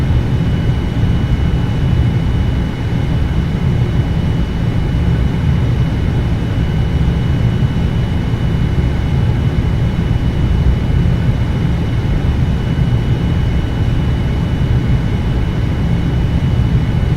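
An Air France jet sits on the runway in the Prepar3D flight simulator game, giving a loud, steady low engine roar that holds throughout with no talk.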